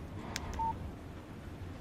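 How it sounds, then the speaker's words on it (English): A phone in the video game Alan Wake gives a text message alert: a single short electronic beep tone, quiet over a low ambient background. "Text message from Barry."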